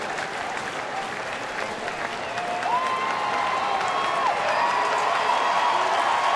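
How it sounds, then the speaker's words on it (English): A baseball stadium crowd at a Twins versus Tigers game applauds and cheers, a dense wash of clapping that swells and grows louder toward the end, with a faint whistle in the mix. "Crowd's starting to come alive a little bit."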